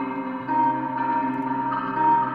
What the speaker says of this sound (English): So just a really cool like underwater muffled vintage like delay type of sound,